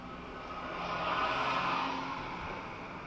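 Traffic noise on a highway on the road trip from Mysuru to Madurai, with vehicles from Karnataka driving ahead: a steady broadband engine and road rumble that swells slightly in the middle, heard from inside a moving car.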